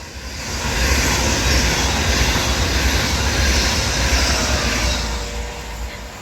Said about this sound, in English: passing through just behind me, catching me off guard, is going to be a 390 Pendolino, which is going to be 39114